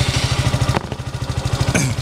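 A Suzuki Gixxer motorcycle engine idles steadily after a remote start, a close, even low putter with a couple of brief higher clanks over it.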